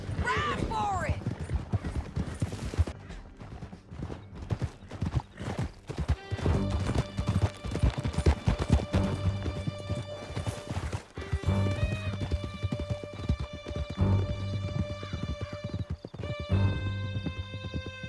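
Horses gallop in the Red Dead Redemption video game, hooves clip-clopping in a steady rapid rhythm with whinnies and a background music score, loud and continuous throughout.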